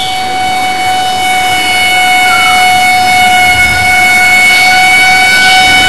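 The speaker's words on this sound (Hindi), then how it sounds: "एक एम्बुलेंस गली में दाखिल हुई है।" A siren wails loudly and steadily on an ambulance entering a narrow street, sustained tones holding close and prominent for several seconds with no talking.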